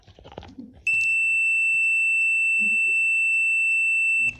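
A multimeter in continuity mode sounds a steady, loud electronic beep held for about three and a half seconds while testing an intact wire, with brief handling noise before and a voice heard softly during and after.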